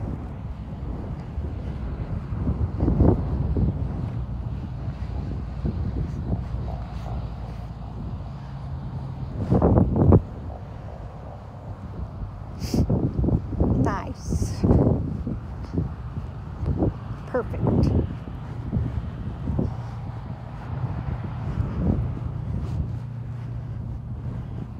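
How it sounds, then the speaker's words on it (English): Strong wind buffets the microphone outdoors in steady low roaring gusts, with a few louder bursts around the middle and a faint voice now and then underneath. "The wind is hard today."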